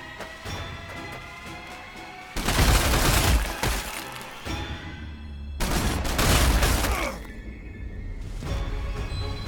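Gunfire and explosive impacts from the Warhammer 40,000 strategy game Sanctus Reach, loud bursts of volleyed shots and crashing blasts that come in waves, with quieter battle noise between them and no talking.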